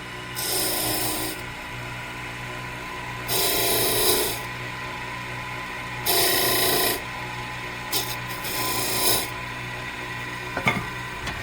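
Wood spinning on a lathe rasps against a tool in three long bursts of broadband friction, each a second or so, then a shorter scrape or two, over a steady motor hum with no talking.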